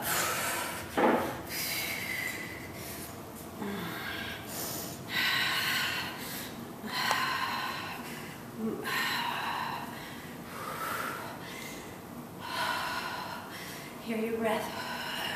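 Audible breaths and gasps during a seated chair workout for beginners, recurring every second or two beneath an instructor's coaching, fairly close and moderately loud.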